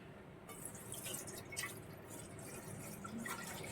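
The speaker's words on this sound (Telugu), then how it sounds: "పాలు పోసుకోవాలి." Milk pours into a kadai in a home kitchen while payasam is being made, giving a steady, close liquid splashing and trickling that runs without break from start to finish.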